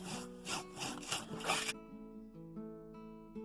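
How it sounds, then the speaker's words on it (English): Paper being creased and rubbed along score lines while assembling a delivery-truck gift box, a run of close scraping, rasping strokes that stop partway through, leaving quiet ringing tones behind. "For the roof, again, fold and burnish those score lines."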